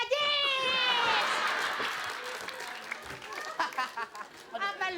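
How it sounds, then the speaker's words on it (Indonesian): An Indonesian comedy show audience claps for Narji, with a burst of applause mixed into loud shouting and laughing voices in the studio. "Kita kan tepuk tangan buat Narji"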